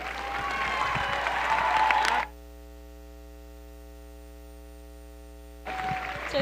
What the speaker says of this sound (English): Everyone, please make everyone who appreciated a big round of applause.